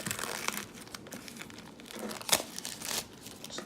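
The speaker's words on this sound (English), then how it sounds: "And then just pull the plastic back." Thin plastic wrap being peeled off an Apple AirPods box, close crinkling and crackling with a few sharper tearing rustles, quiet and without talk.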